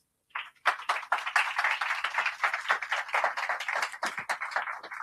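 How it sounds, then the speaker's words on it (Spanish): An audience claps for David, a speaker at a talks event, with dense, steady applause starting after a brief pause and continuing throughout, moderately loud and close, without speech. "un aplauso para David"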